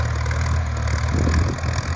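A Ford tractor engine idles nearby on wet farmland being ploughed, a steady low chugging rumble with no talking over it.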